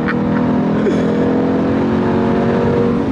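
A Jeep Trackhawk with a 707 horsepower supercharged Hellcat V8 holds a loud, steady, close-up engine roar throughout.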